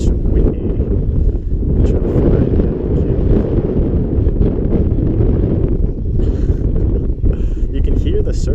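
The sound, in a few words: wind blowing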